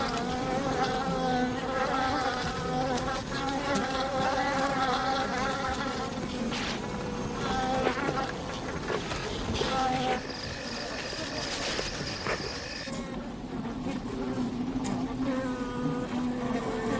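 Honey bees swarm and buzz around a hive whose comb a honey badger has raided, a dense, continuous close-range drone with shifting pitches that swells and fades as individual bees pass near.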